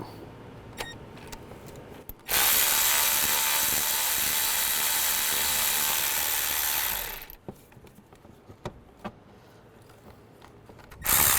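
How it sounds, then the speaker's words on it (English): A ratchet with a 10mm socket loosens the radiator bracket bolts on a 2005-15 Nissan Xterra. A long burst of rapid clicking runs for several seconds, followed by scattered light ticks and another burst at the very end. "There's a 10mm socket. Just take the bolt out."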